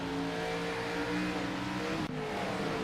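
Race car engines rev and accelerate during an iRacing Bristol sim race in the GN series, a steady dense engine roar with shifting pitch throughout and a brief dip near the end, with no talk.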